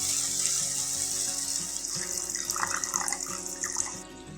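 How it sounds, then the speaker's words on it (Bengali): Water pours steadily into a pan of cooking tomatoes during a paneer butter masala preparation, a continuous running splash heard close and alone, with a faint sizzle underneath. "জলটা দিয়ে দেব।"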